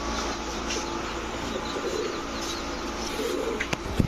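Pigeons, racing and Giribaz tumbler birds kept in pairs at a loft, coo softly and steadily throughout, with a few short sharper knocks near the end over a constant background hiss.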